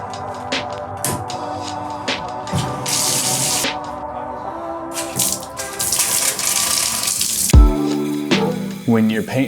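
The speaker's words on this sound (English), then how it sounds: "it's just a matter of washing off the soap and the excess paint to reveal the color underneath" Running water from a tap rinses soap and excess spray paint off a poster canvas; a loud, close splashing stream comes and goes in bursts, with a few clunks and gurgles toward the end.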